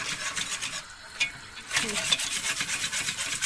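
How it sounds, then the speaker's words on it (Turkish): Flour being roasted and stirred in a pan for a home-cooked dinner, a steady soft scraping and rasping of the utensil against the pan, with a faint sizzle throughout and no talk over it. "Şimdi Derya unu kavuruyor."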